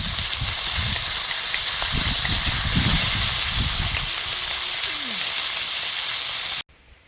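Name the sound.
fish frying in oil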